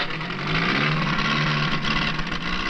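A running car engine feeds exhaust through a tailpipe in a national laboratory at Le Vésinet, west of Paris, its steady mid-pitched hum rising slightly in revs and holding close and continuous.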